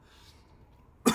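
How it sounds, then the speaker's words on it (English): A single short, sharp cough close to a microphone, coming abruptly after near silence. "I got like a little cough going on"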